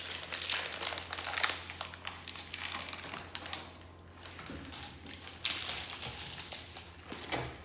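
Parchment paper crinkles and rustles steadily near the microphone in a home kitchen where whole pumpkin is being drained for pie purée, in dense crackling bursts that swell and ease without any speech.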